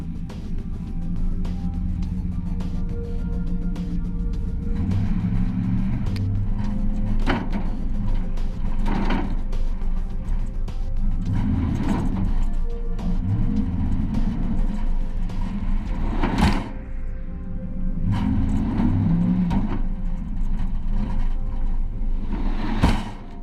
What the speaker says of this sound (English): So let's take a quick ride and see how our cargo does.